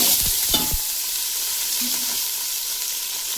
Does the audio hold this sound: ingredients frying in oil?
yes